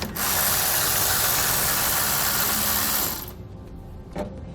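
Ratchet wrench with a 12mm socket working a nut on the outside of the frame of a 2017 Toyota Tundra pickup, a dense steady clicking that runs loud and close for about three seconds, then stops, leaving quiet room noise and one faint knock.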